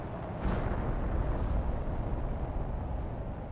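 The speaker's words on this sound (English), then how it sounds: "Then we are back sending off more rockets." Rocket launch in Planet Crafter: a sudden roaring ignition followed by a sustained, loud rumbling thrust that carries on steadily without talk.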